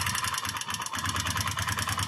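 A TVS Apache motorcycle engine idles steadily with a fast, persistent tappet ticking riding over the low rumble, close and loud throughout with no talk.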